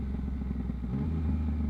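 A Yamaha MT motorcycle engine rumbles close and loud, its pitch shifting briefly as it downshifts with a quick shifter.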